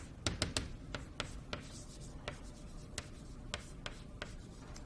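Chalk or marker tapping and scraping on a board during a math lecture, a series of quick sharp strokes and taps in an irregular rhythm, moderately close, with no speech.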